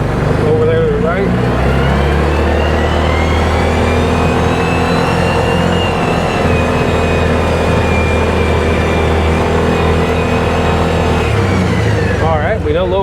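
A 2019 Massimo T-Boss 410 UTV driving in low range, its engine droning loud and close with steady revving throughout while someone talks over it.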